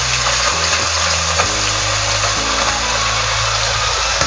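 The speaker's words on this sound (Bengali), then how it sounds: "বন্ধুরা তেল গরম হয়ে গেছে, এবার মা মাছের নুন হলুদ মাখিয়ে ভেজে নিচ্ছে।" Chewa fish coated in salt and turmeric fries in hot oil, a dense, constant sizzle and crackle with a low hum underneath, steady throughout.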